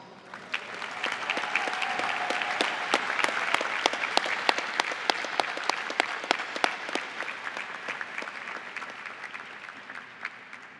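A graduate diploma ceremony audience claps for about ten seconds, dense steady applause with sharp individual claps standing out close by, swelling slightly and then tapering.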